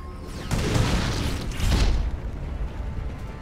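Gunfire from forces opening up in a real-time strategy video game battle: two muffled booming bursts, the second heavier, over a continuous rumbling mechanical din.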